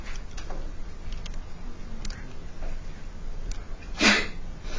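A single sneeze breaks out about four seconds in, fairly close and sharp, during a quiet classroom lesson on matrices with faint ticking and low room noise around it.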